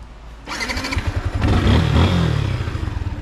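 A motorcycle engine fires up nearby and revs in a couple of rising surges, then settles into a rumbling idle, loud and close outdoors.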